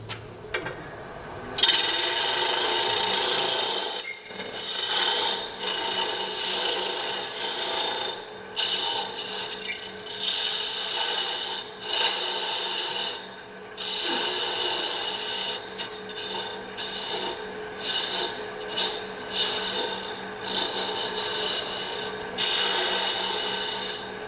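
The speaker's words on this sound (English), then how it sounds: "I'm going to use this boring bar because I never get a catch with this" A boring bar cuts wood on a lathe, shaping a non-hollow turned form. It gives a steady, continuous rasping scrape for over twenty seconds with brief pauses between passes and no voices.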